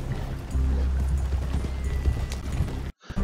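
Horse hooves clip-clopping in a video game, a steady close rhythmic trot of hoofbeats that drops out abruptly near the end.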